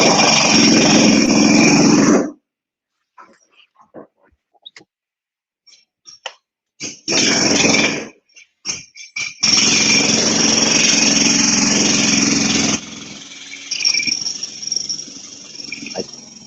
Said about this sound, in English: let this drilling end